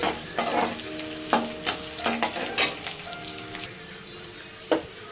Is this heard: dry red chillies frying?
yes